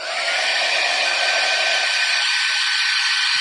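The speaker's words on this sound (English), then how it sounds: "I'm gonna use my embossing tool." Steady, loud hot-air whoosh of a heat embossing tool running continuously, a broadband blowing hiss with a faint motor whine underneath.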